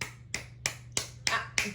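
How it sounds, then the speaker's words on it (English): Six sharp claps land in a quick, even beat as people clap for Erin, each one crisp and close against a quiet room. "Don't stop clapping until I tell y'all to."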